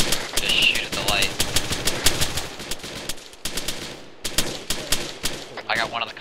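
Rapid bursts of automatic gunfire crack out in Arma 3 as shots are aimed at a guard tower light, sharp repeated reports with brief pauses between volleys.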